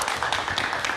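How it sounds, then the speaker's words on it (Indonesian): Studio audience clapping at a live music talk show as a guest sits down, a brief, fairly faint patter of hands with a few sharper claps standing out. "kita berikan tepuk tangan"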